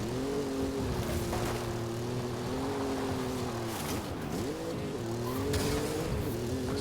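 A level 2 Peugeot in a video game drives with a steady engine drone, its pitch dipping and rising as the tires skid and squeal, loud and continuous throughout.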